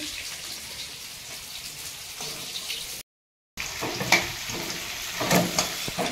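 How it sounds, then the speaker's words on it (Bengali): Potato pieces fry in hot oil in a kadai, giving a continuous close sizzle with a short silent break, then a livelier crackle with occasional sharp pops and stirring clinks. "ও পাশে কড়াইতে তেল দিয়ে দিলাম, দিয়ে এবারে আলুগুলো ভাজাভাজি করবো।"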